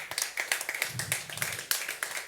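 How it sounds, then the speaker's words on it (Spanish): Clapping from a church congregation during a sermon, scattered individual claps in an uneven rhythm at moderate level, slightly roomy, with no talking over it. "Dale un aplauso fuerte al Rey"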